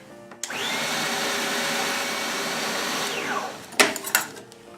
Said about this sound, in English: put the lid on your Cuisinart. Now we're just going to mix it